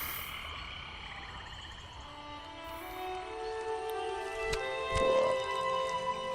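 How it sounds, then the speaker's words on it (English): A toad in the video game Moss Book II croaks several times against a soft game soundscape, with a few low, throaty calls building toward a louder burst near the end. "the toad consoled her in his own prickly way."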